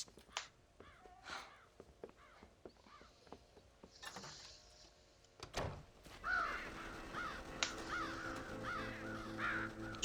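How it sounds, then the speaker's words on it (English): Crows cawing inside a farm silo in the video game Red Dead Redemption, harsh repeated caws with flapping and a sliding clatter, building into a busy chorus of calls near the end. "Scare the crows out of the silo."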